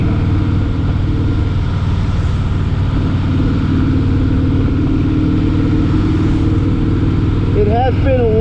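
Steady low rumble of a two-tone white and red 2013 Harley-Davidson FLSTN Deluxe V-twin cruising on a wet test ride, loud and continuous with wind buffeting, rising slightly and ending in short squeaky tonal chirps.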